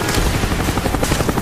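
An attack helicopter in Call of Duty: Black Ops, a Cobra, gives steady rotor thumping and turbine roar that fill the clip, loud and continuous, with no voices.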